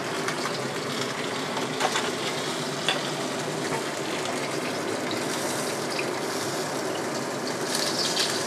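Freshwater perch fries in a wok for a braised tofu and perch dish, giving a continuous close sizzle and crackle with occasional spatters and scrapes throughout.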